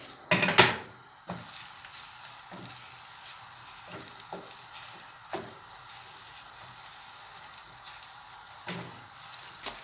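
Cooked pasta being stirred into a minced-meat tomato sauce with a splash of pasta water in a pan, a soft steady sizzle under repeated close scraping and clattering stirs, with one louder clatter at the start.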